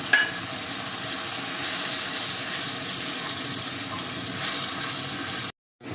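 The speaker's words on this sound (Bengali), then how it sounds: "বাটিটা দিয়ে একটু জল দিয়ে দেবো" Water added to a pan of fish curry with mustard paste, a continuous bright hiss and bubbling sizzle that holds steady and loud before cutting off abruptly near the end, no voices.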